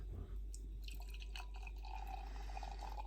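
Double IPA beer poured from a can into a glass gives a quiet liquid trickle and small splashing drips over a low steady hum, fairly faint and close.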